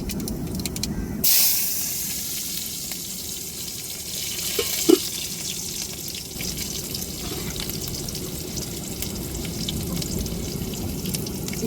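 Onion dropped into hot oil for tempering, a loud broad hiss that bursts in early and then settles into a steady sizzle, with a faint clink midway.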